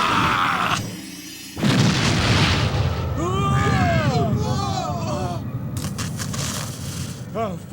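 A sorcerer's fire spell erupts in a deep, sustained roaring blast that swells and rumbles on for several seconds, with crackling bursts and overlapping voices talking over the din.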